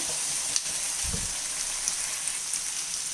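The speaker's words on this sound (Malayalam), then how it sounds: "ഇതിലേക്ക് നമുക്ക് അരിഞ്ഞ് വെച്ചിരിക്കുന്ന തക്കാളി ഇട്ട് ഇളക്കി കൊടുക്കാം." Chopped tomatoes frying in oil for a semolina biryani, a steady close sizzle with a single stir scraping through the pan partway.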